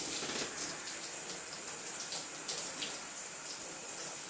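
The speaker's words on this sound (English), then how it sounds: "I'm going to drench my hair with water first." Water runs steadily from a tap to drench natural 4C hair before shampooing, a continuous hissing gush with small splashing variations, close and alone without speech.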